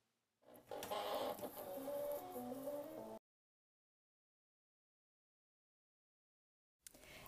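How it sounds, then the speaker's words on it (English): Silhouette cutting machine slicing cardstock, a steady close whirring and buzzing with shifting motor tones for about three seconds. It stops abruptly, then silence follows. "And then you're ready to tell your machine to cut."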